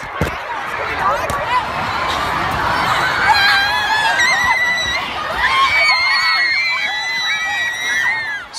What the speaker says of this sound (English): Screaming, terrified, they clambered to escape.